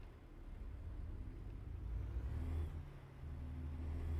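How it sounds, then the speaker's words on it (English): A truck engine rolls along in American Truck Simulator while hauling sugar from Billings to Great Falls, a steady low rumble and whir that swells slightly partway through, with no talk over it. "And our truck is rolling."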